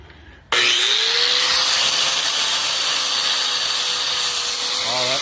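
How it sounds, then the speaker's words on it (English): An angle grinder fitted with a sanding disc sands metal during a paint project, starting abruptly with a loud, steady high whine and abrasive rasp that holds continuously to the end. "I don't like a grinding disc. I like the sanding disc."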